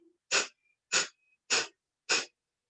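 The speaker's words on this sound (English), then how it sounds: "The breath of fire pranayama is a sharp exhale and a passive inhale." Four sharp, forceful exhales from breath of fire pranayama, evenly spaced about half a second apart, close and loud with silence between.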